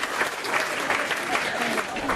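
A comedy show audience claps in a short, steady burst of applause, moderately loud and even throughout, with no speech over it.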